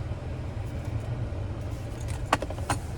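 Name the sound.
key fob with remote start being handled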